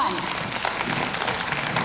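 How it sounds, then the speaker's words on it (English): A studio audience at a televised local bands night claps steadily, a dense, even wash of applause filling the short stretch without pause. "Let's hear a clap from you."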